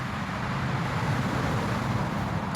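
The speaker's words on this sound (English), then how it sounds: "Those cars are loud, they're getting louder." Road traffic rumbling steadily past a walking route, a continuous loud roar of passing cars close by with no clear gaps.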